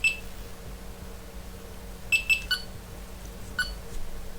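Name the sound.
Delkim bite alarm confirmation tone during multi-channel pairing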